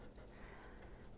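Colour pencil lightly cross-hatches on paper, a faint, soft, continuous scratching of quick short strokes with no talk.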